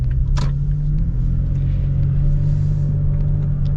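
A lifted Toyota Tacoma TRD Pro truck cruises along with a steady, loud low engine and road rumble filling the cabin, plus a brief clunk early on.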